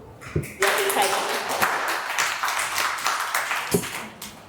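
Audience applause at a gut health and healthy eating seminar in Thika, greeting the arriving doctor: a steady wash of clapping that starts abruptly and fills the whole stretch, with a few sharper taps and voices mixed in.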